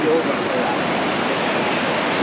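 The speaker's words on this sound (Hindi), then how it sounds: "पानी का जो लहरें हैं, जो वेव्स हैं ना, इनमें करंट ज़्यादा आई जा रहा है" Sea waves roll onto the beach at Gopalpur at sunset, a steady, close, full roar of surf with no clear breaks.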